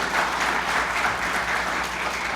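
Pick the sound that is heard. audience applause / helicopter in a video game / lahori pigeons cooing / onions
audience applause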